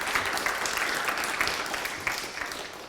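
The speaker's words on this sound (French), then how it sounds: "je vous invite à l'applaudir là pour l'encourager" An audience at a tech conference talk gives a steady burst of clapping that fills the room with dense, continuous claps for a few seconds.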